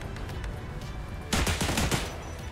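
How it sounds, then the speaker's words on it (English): A tank-mounted machine gun fires in War Thunder, a quick burst of rapid close shots cutting in after a quiet stretch of engine rumble, then dropping back to the low hum. "It's a long reload on this machine gun."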